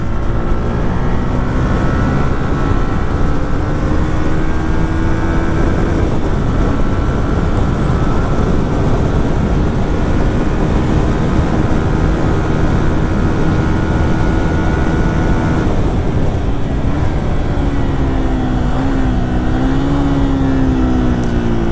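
A Yamaha R15 V2 motorcycle fitted with a Thewolfkid silencer, DB killer removed, drones loudly and close with its engine held at steady revs, the tone rising and falling slightly as the throttle shifts.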